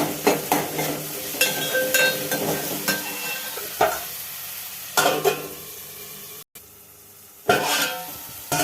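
Tomato pieces cooking in a pan with oil, giving bursts of sizzling and stirring separated by quieter gaps and clatters of a utensil, close by with no talk.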